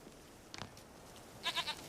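A goat in The Witcher 3 video game gives a short, wavering bleat of three quick pulses near the end, preceded by faint game ambience.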